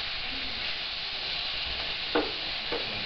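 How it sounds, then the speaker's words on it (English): Meat browning in a pan with garlic, bay leaves, salt and black pepper for paella gives a steady, close sizzle, with a couple of brief scrapes as it is stirred. "just browning it on the outside with the garlic and the bay, a bit of salt and the black pepper all together"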